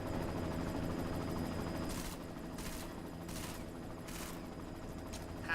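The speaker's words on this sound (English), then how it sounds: "You've got to stop that chopper." Helicopter in the video game Deus Ex: Mankind Divided, a steady rotor drone running throughout with several short bursts of gunfire layered over it.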